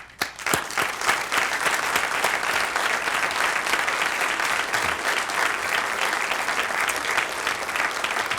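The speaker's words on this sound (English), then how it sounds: "I'd love if you could stand right now and be welcomed a warm round of applause" A warm round of applause from a seated audience at a research presentation, steady dense clapping that starts abruptly and holds at full strength throughout, close and loud with no talk.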